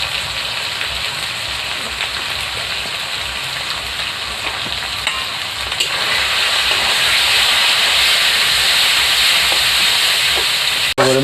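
Spices with salt and dry chili powder fry in oil in a pan, a loud steady hiss and sizzle close up that swells slightly midway, with a sharp clink near the end.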